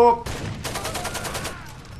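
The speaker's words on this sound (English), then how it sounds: "They're shooting behind us again." Automatic gunfire in the video game Far Cry 2, a rapid burst of about a dozen close, loud shots in quick succession, preceded by a brief tonal sound.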